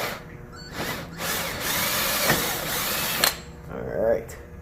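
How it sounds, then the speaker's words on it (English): A power drill with a large bit bores into a BMW S1000RR motorcycle part, its motor whining in sustained bursts with brief pauses, close and loud, while people talk alongside. "It's just the biggest drill bit."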